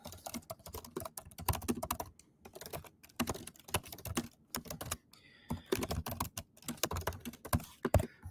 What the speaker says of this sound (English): I'm going to type this in the background